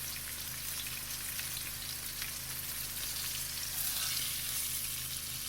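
Pot roast meat sears in a pan with a soft, continuous sizzle and faint crackle under a low steady hum, fairly quiet and close, with no talking.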